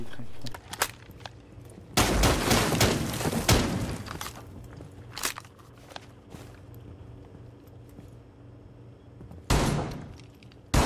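Pump-action shotgun blasts in a video game, loud sharp bursts with ringing tails, two big shots spaced several seconds apart plus smaller clicks and thuds between, ending with another blast.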